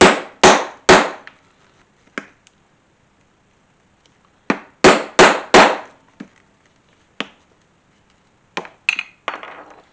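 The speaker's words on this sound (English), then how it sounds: "Again, my 1/8 inch punch." A 1/8 inch hole punch is hammered through a leather guitar strap in sharp, close strikes, mostly in quick groups of three separated by quiet pauses, with lighter taps between.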